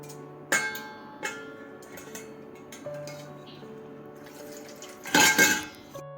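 Metal pot and utensil clinks ring out at intervals, then a brief burst of clattering and splashing as boiled banana flower is strained.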